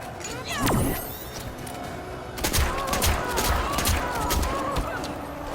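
Jacqui Briggs firing her long gun in Mortal Kombat, a series of sharp, punchy shots with fighting-game impacts and effects, spaced unevenly and loud.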